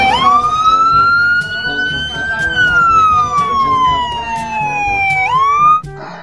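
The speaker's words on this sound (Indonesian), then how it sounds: "Yang ini ada mobil ambulans." Toy ambulance siren wailing loudly and steadily, one long slow rising and falling tone with harmonics that drops and cuts off near the end, with faint background sounds.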